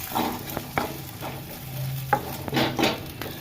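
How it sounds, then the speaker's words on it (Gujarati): Chopped tomatoes sizzle and fry in a pan while a spoon stirs and scrapes now and then, cooking for a stuffed eggplant curry; the sound is soft and close, with no voices. "ટમેટાને આપણે પાંચ મિનિટ પકાવી દેવું"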